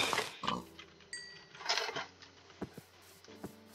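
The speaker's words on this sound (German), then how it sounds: "Okay, komm her, du Schweinchen." A pig oinks in Minecraft with short grunting snorts over game sounds, clicks and scattered blips.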